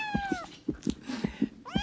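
A domestic cat meows twice, two drawn-out rising and falling cries heard up close, with soft thumps and rustling between them.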